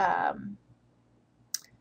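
A computer mouse button gives a single sharp click, faint and close, following a brief burst of speech.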